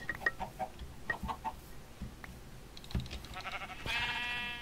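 Sheep bleat and chickens cluck in a modded Minecraft world, with scattered short clucks and taps early on, then a louder, drawn-out bleat near the end. No voices are heard.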